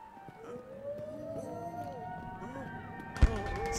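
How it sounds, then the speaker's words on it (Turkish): Air-raid sirens wail in the war video game My Memory of Us, with rising and falling tones that overlap under steady background noise, and a sharp thud near the end. "Sirenler çalıyor."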